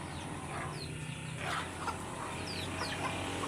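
Chickens on a rural Philippine farm, including laying hens, cluck and chirp in short scattered calls over a steady background hum, with no talking.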